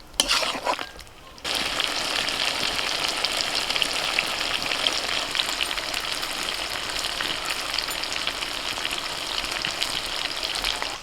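Chicken pieces sautéing in a pan with yogurt, a steady dense sizzle and crackle that starts after a brief quiet moment and continues loud and close throughout.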